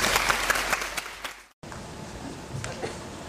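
An audience at a school talk event applauds a third-year student speaker, a burst of clapping that tapers off and cuts out abruptly partway through, followed by faint room noise and a few scattered claps.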